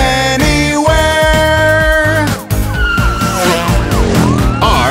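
A police car siren wails loudly within a cartoon children's song about vehicles, its rising and falling tones sweeping over bright backing music.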